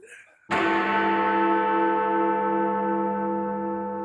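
A single church bell tolls once, struck loud and close, its rich ringing hum sustaining and slowly fading.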